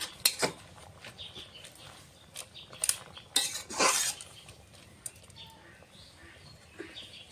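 A pot lid is set down on a pan of spinach, fenugreek and potato curry, giving a few scattered metallic clinks and clatters, with a denser rattle near the middle and quiet kitchen background between.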